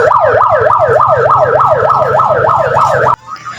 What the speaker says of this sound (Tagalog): pang ambulansya yung tugtog, parinig ko sa inyo.